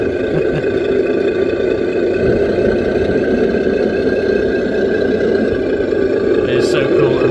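A Tamiya Grand Hauler RC truck's electronic sound module runs outdoors, giving a steady simulated diesel idle with a low, continuous rumble and a brief high chirp near the end.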